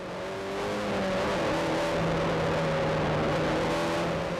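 A KTM X-Bow sports car drives steadily with a continuous engine note that holds and shifts slightly in pitch, close and fairly loud throughout, with no talking.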